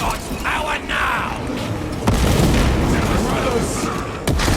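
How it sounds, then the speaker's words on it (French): Grenade barrage explosions in Space Marine 2, a run of heavy booms and rumbling blasts with sharp impacts under continuous game noise and talking. "Petit barrage de grenade, c'est toujours comme ça qu'on dit bonjour."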